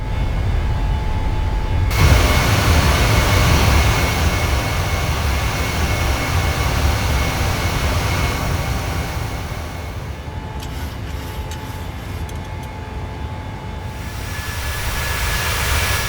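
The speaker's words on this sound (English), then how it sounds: "the aircraft has a routine and normal takeoff from Moscow International Airport" An Aeroflot passenger airliner takes off from a Moscow airport with a loud, steady engine roar, a broad rushing noise that holds nearly constant with a slight shift partway through.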